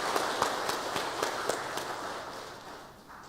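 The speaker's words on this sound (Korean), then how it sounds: "감사하는 박수 보내겠습니다." Church congregation at a Sunday worship service applauding in thanks, a steady spread of many hands clapping at moderate distance that gradually fades over a few seconds.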